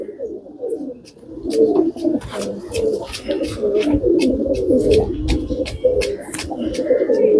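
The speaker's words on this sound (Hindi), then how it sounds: "आप देख रहे हैं बाजरे कबूतर, ये देखें आप चटाई वाले कबूतर, गंडेदार कबूतर, हर किस्म के कबूतर यहाँ पर मौजूद हैं" Many pigeons of several breeds, including Bajra, Chatai and Gandedar types, coo in a steady low chorus close by at a breeder's loft, with wing flaps and clatter mixed in.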